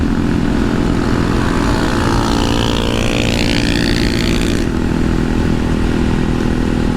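A Honda Monkey motorcycle rides along with a Yoshimura exhaust fitted with its low-volume insert, giving a loud, steady, droning engine hum heard continuously from close up with rushing wind.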